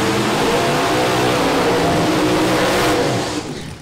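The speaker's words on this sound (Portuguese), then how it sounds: "Som e a fúria de Myron César no Camaro V8 Blower." A Chevrolet Camaro V8 Blower drag racing engine roars at full throttle, loud and close, holding one steady blast before it starts to fade near the end, with no voices.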